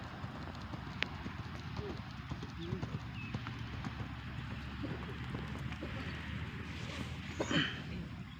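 Racehorses trotting on a training track before a traditional Gayo horse race, hooves clip-clopping steadily and fairly faintly at a distance, with a brief whinny-like sound near the end.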